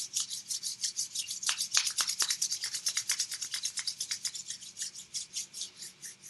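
Palms rubbing briskly together in a quiet room during a guided meditation, a steady run of dry, rapid swishing strokes that swell and fade rhythmically, close and fairly loud, with no voices.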